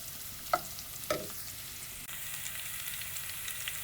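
Chopped onions fry in oil as they brown, giving a soft, steady sizzle with two brief spoon scrapes near the start, faint and close.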